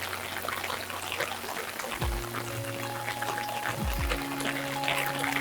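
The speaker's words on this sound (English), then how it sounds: "Well, it's raining." Steady rain falls on a hillside road in Zungoli, Campania, Italy, a continuous close patter and wash of water running through the whole stretch, with a low droning hum that rises and shifts partway through.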